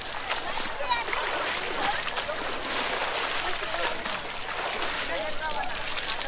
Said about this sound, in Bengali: সবাই স্নান করছে এখানে